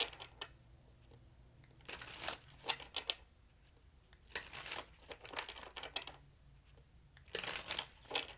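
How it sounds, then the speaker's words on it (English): A deck of tarot cards is shuffled by hand nearby, giving soft, papery riffling and crinkling bursts that come in several short waves over quiet room tone. "Last shuffle for Capricorn, please."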